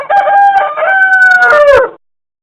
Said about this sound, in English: Perfect. Rooster.